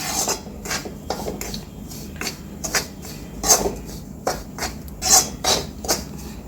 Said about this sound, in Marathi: मी हा छान परतून घेते दोन तीन मिनटं